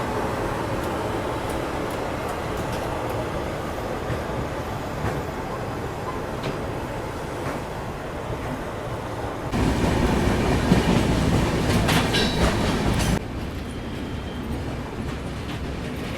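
Kashi Vishwanath Express 15128 with a WAP7 electric locomotive running, heard from inside an AC 2-tier coach: steady rumble and wheel clatter throughout, swelling louder for a few seconds midway before settling back, with no talk.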